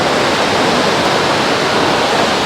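A waterfall pours from a great height, producing a loud, steady, full rush of falling water with no other sounds.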